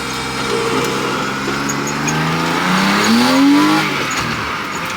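A BMW E36 car engine revs up, its pitch climbing sharply to a loud peak before dropping back, with a steady mechanical drone underneath.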